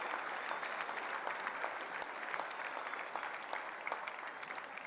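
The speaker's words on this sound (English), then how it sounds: "give your friends and family a round of applause and say thank you" Audience at a Victoria University graduation ceremony applauding steadily, a dense wash of many hands clapping at moderate distance throughout, with no talk over it.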